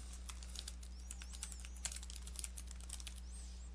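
Rapid, light clicks of typing on a computer keyboard while entering a bulleted list in OneNote 2013, close and steady over a low constant hum, with no voice.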